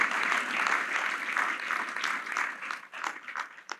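A church audience claps for Jesus, a bright burst of applause that starts full and thins out toward the end as individual claps become distinct.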